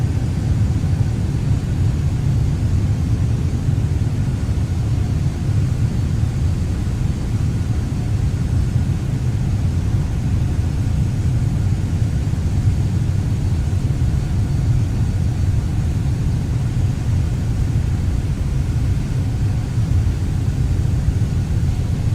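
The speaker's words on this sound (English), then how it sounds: "And some reverse thrust." Airliner engines roar steadily in reverse thrust during landing rollout in Microsoft Flight Simulator, an Air Côte d'Ivoire flight, a dense, continuous low rumble with broadband hiss holding constant throughout, no voices.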